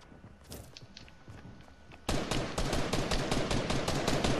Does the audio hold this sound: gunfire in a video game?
yes